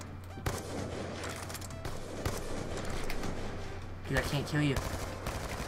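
Gunshots in the video game CS:GO, several sharp separate shots spread across the stretch over steady background hum, with a person talking briefly near the end.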